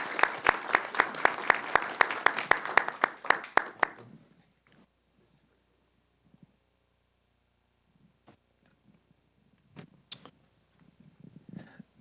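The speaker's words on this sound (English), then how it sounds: "Let's give her a round of applause and celebration." Applause from an audience at a Kirkland city council meeting, a dense burst of clapping for about four seconds that stops abruptly, followed by near silence with a few faint shuffles and taps.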